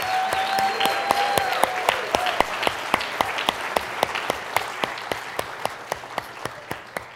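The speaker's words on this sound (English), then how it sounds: "Can we just give all of our teams one more round of applause?" An audience at a university startup accelerator demo day and award ceremony applauds the teams; sustained crowd clapping slowly thins into sparse, evenly spaced single claps that fade toward the end.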